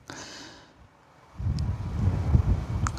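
Wind blows outdoors on an overcast day in Manning, Alberta, buffeting the microphone with a low rumbling roar that drops briefly, then swells louder and gusty in the second half, with faint rustling.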